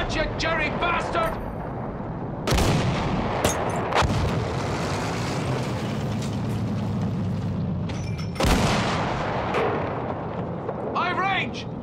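Artillery in Battlefield 1 firing heavy booming rounds, two big blasts a few seconds apart with long rumbling tails and other battle noise. Someone speaks over the start and end.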